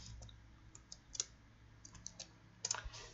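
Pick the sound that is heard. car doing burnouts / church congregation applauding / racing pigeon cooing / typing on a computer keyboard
typing on a computer keyboard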